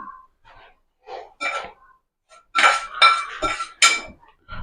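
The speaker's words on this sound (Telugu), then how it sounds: "వేడి ఉంది కాబట్టి స్పూన్తో కలుపుతుంది" A spoon mixes hot egg and prawn food in a metal dish: sparse, close clinks and scrapes come in short bursts between silences, growing busier and louder toward the end, with faint breathing in between.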